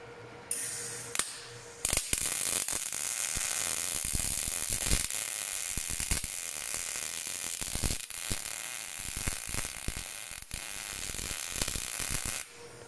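A nut being welded onto a front wheel-bearing part of a Skoda Octavia 1.8T in a car workshop, a loud steady crackling sizzle that runs for about ten seconds after a few short starts, close up with no talking.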